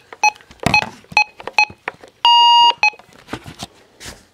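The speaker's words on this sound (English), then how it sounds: "We're going to do a alarm clock test on the Radioshack" The alarm on a Radioshack 12-382 weather radio gives loud, sharp electronic beeps in a quick irregular series, with one longer sustained tone in the middle, mixed with clicks and handling noise close by.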